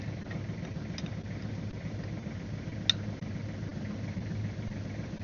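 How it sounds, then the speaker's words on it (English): A tractor engine idles low on fuel, a steady low rumbling drone that holds evenly throughout with a faint click partway through. "I don't know why I left that tractor running when I'm low on fuel."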